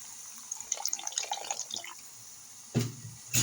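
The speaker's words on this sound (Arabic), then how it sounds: "نزيد واحد كاس تاع الماء، نزيد واحد شويه الماء باش ما تحرقش ليا" Water poured into a pot of white beans with chicken, spices, onion and tomato, a soft close splash and trickle followed by a couple of brief louder spills.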